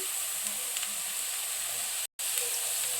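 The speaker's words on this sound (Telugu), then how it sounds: "ఇంకా బాగా వేగాలండి. ఇది ఆనియన్స్ గోల్డెన్ బ్రౌన్ కలర్లో రావాలి." Onions and curry leaves fry in hot oil with a steady, bright sizzling hiss, briefly cut to silence for a moment before the sizzle resumes.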